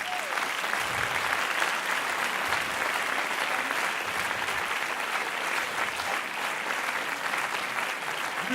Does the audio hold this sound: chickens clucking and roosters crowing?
no